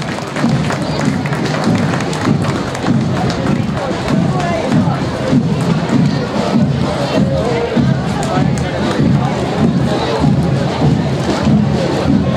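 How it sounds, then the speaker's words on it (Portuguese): Crowd at a September 7 Independence Day school parade in São Domingos, Maranhão, cheering and clapping for a school, a loud continuous roar of voices and applause with shouting throughout. "Quero pedir a esta escola uma forte salva de palmas"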